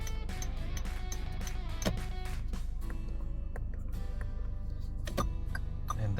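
A Toyota Veloz turn signal ticks in a steady tick-tock rhythm over a continuous low background hum, fairly close and clear.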